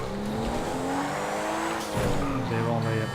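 A Porsche 911 Turbo S with 540 horsepower in GTA 5, its engine droning steadily with pitch shifts as it drives and brakes, under continuous talk throughout.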